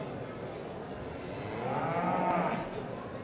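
A Beef Shorthorn heifer lows once in a drawn-out moo that swells midway and fades, set against the steady hubbub of a livestock auction ring at United Auctions Stirling, with faint talk in the background.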